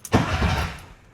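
A 1972 VW Beetle with a dual-carburetor engine cranks on a hot start, a short burst of starter and engine noise that catches briefly, close and loud, with no talking.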